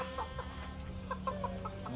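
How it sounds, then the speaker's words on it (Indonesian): A Brahma rooster with long feathered legs, kept among ordinary village chickens, gives several short clucks and brief crowing calls in bursts over a low farmyard background. "Ini ayam Brahma yang pejantannya"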